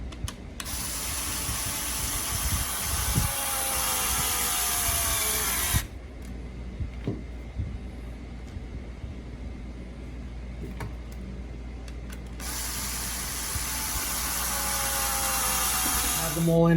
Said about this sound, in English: Even the drill struggles a little bit.